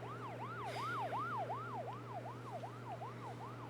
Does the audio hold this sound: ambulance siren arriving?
yes